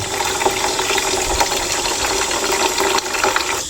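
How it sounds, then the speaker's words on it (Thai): Water poured out of a Honda NSR150RR motorcycle radiator reservoir during a flush, a steady close splashing stream running continuously with no talk. "เทออกมาเนี่ยโห มีเศษขี้ตะกอนเศษอะไรต่างๆปนออกมาด้วยนะครับ"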